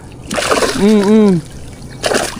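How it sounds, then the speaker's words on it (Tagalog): Banak fish thrash and splash in water, with a burst of splashing, then a voice calling out, then another splash close by. "Oh, parang banak ito kasi nagtatalunan eh oh."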